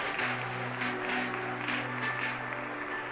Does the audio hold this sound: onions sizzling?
no